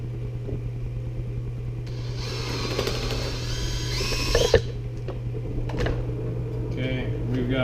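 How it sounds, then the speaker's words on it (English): A power drill with a brad point bit bores a hole in Kydex, whirring for a couple of seconds over a steady background hum, then stops, followed by brief handling clatter. "So we'll drill a hole."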